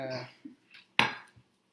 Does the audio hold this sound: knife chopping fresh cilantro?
yes